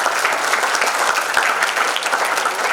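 Loud, close applause from an audience at a youth entrepreneurship bootcamp and festival, honouring Universitas Ibnu Sina, a dense continuous patter of many hands clapping at an even level throughout.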